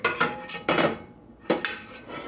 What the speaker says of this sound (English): we're gonna stir this in and get this together